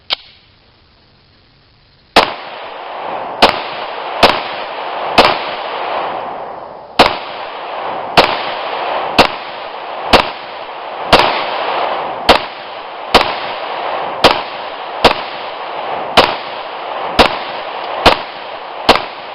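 A Glock 35 pistol fitted with a Lone Wolf 9mm/.40 S&W barrel fires a string of about fifteen sharp shots outdoors, loud and close, in a fairly even rhythm with short pauses between some rounds.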